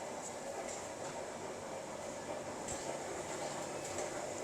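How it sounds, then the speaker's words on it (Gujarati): A small toy train runs along tracks laid across restaurant tables, giving a steady rumbling hum with light rail clicks as it brings food, and no talking. "આ તમારું ફૂડ લઈને આવી રહી છે ટ્રેન."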